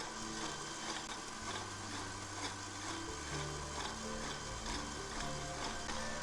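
An electric mixer whirs steadily, beating Twinkie batter in a bowl, a loud continuous mechanical drone with shifting pitch and no talking.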